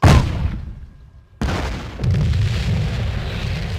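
In the WWII card game KARDS, a tank takes a hit: a loud booming explosion opens, falls briefly silent, then a second blast and rumbling impact noise sustain.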